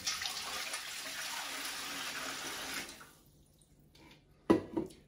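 Half a gallon of water pours steadily for a brine for a holiday turkey, a broad rushing stream that runs for about three seconds, then stops, followed by a couple of brief knocks near the end.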